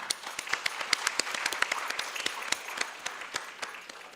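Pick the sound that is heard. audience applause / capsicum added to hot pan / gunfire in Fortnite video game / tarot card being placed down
audience applause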